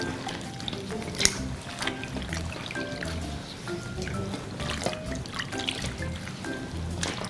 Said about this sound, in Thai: ยกน้องขึ้นจากกะละมัง ใส่กะละมังอีกหนึ่งอัน ล้างสบู่ออกให้หมด